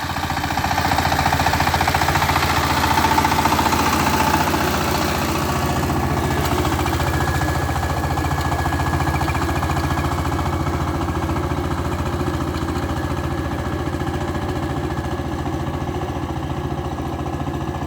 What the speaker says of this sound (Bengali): দেখেন গাড়িটা কত মোলায়াম চলতেছে